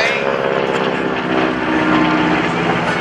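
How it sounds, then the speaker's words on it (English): A T-6 SNJ propeller trainer with Pensacola markings flies past at the 2011 Blue Angels Homecoming Airshow, its radial engine giving a loud, throbbing drone that swells slightly mid-pass, with a voice speaking over it. "the second T-6 coming by is Scott Roselle, flying his SNJ"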